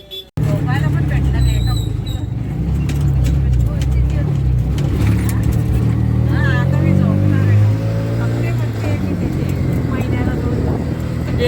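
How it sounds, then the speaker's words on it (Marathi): Auto rickshaw ride on a road in the Konkan countryside, with a steady, loud engine drone and rumbling wind and road noise running continuously beneath muffled voices. "आम्ही एक रिक्षा पकडलेली आहे"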